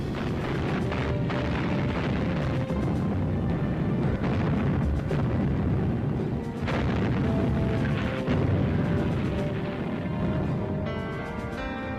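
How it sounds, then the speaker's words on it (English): Artillery bombardment of Soviet field gun positions in the Crimea comes as a dense, continuous rumble of booms and blasts, loud and sustained with repeated heavier impacts throughout. "they were subjected to a steady bombardment"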